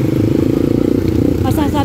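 A motorcycle engine runs loud and close on a road near NAIA toward Tambo, with a steady rumbling putter throughout and a voice talking over it near the end.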